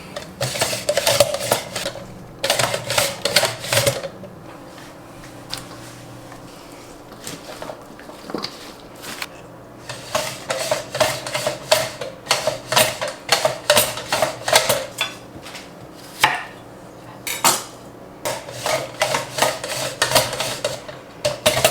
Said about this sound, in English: And then I'm going to use the mandolin again.